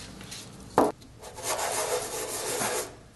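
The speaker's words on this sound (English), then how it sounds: "So you need to rotate the side when you sand the stone." A stamp stone being sanded flat on sandpaper, with a sharp knock followed by soft, close rubbing strokes.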